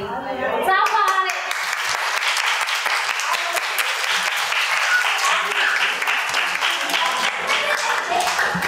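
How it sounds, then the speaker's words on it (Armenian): An audience at a children's event bursts into dense, sustained applause after a brief opening of scattered sound, loud and close and continuing steadily to the end, with some faint voices mixed in. "Ծափարեք։"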